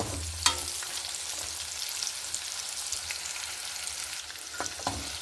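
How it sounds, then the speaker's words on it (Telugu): Cashews frying in oil with onion and green chillies, a dense steady sizzle and crackle with a few sharp spatter pops, close and continuous throughout. "నూనెలోనే వేయించుకోవాలి జీడిపప్పులు"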